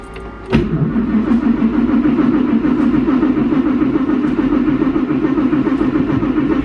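A Ferrari's engine cranks and fires with a sharp burst, then settles into a loud, steady, rumbling idle that carries on to the end; the car was started after its choke was set and its electric fuel pump primed.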